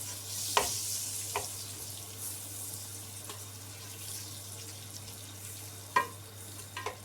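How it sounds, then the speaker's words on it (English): Butter melting and being stirred in a pan over a low to medium flame while making sweet rice, giving a faint steady sizzle broken by a few sharp scrapes and clinks of the spoon. "So I'm going to stir the butter until it melts"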